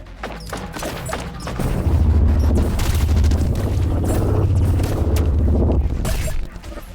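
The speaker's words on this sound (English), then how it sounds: "I love the sound of freaking Vandal shots." Vandal gun shots in the VR game Blaston, heard as a heavy, booming run of blasts that swells and holds loud for several seconds before fading, with scattered sharper impacts around it.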